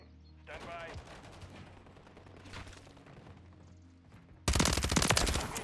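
Sudden loud burst of Static HV fire in Call of Duty MW3, a dense rapid string of shots arriving near the end after quieter game ambience and brief voices.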